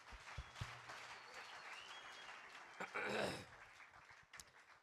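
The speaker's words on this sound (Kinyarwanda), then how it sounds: "mureke duhe Imana amashyi menshi cyane" A church congregation claps together, a steady wash of applause that swells briefly toward the end, heard at moderate distance with a few chuckles mixed in.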